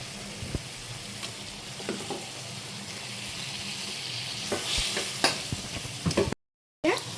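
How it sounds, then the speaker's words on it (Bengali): Pabda fish cooks in a mustard gravy, giving a constant soft sizzle and bubbling with scattered scraping stirs and light knocks nearby, broken briefly by a moment of silence near the end. "একটা একটা করে আমি মাছ দিয়ে দেবো ঝালের মধ্যে।"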